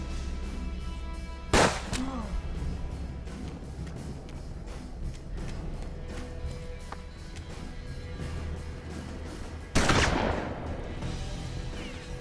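Gunfire from the video game Hard West: two sharp, loud shots stand well apart over a low steady game soundscape, with someone talking in between.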